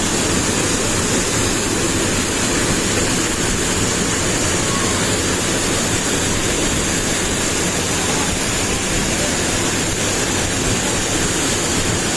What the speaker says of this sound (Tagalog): sobrang rinig na rinig at kitang-kita mo talaga yung tubig sa waterfalls